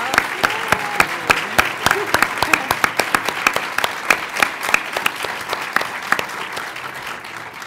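An audience at a contemporary art curating event applauds steadily for several seconds, dense claps forming a broad, sustained wash that fades slightly toward the end.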